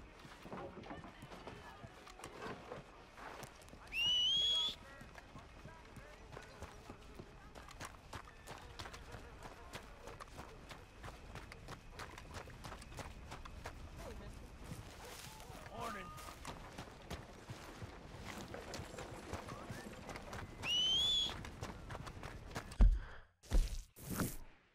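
Horse hooves clip-clop steadily through the whole stretch in Red Dead Redemption 2, a moderately loud running gait mixed with game ambience and occasional voices, ending in a few sharp louder bursts.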